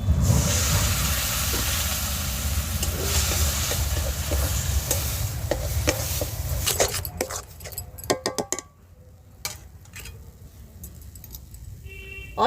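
Ground lentil paste and a splash of water hit a hot pan with a loud, hissing sizzle. The sizzle then dies down, leaving scattered clinks and stirring scrapes.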